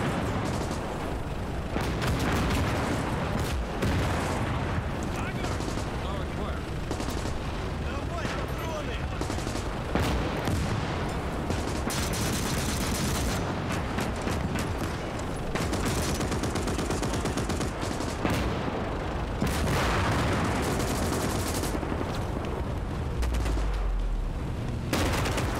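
Dense, nonstop gunfire mixed with heavy artillery blasts and explosions in a Call to Arms: Gates of Hell Soviet campaign battle, loud and close, rattling continuously for the whole stretch, with voices shouting orders over the din.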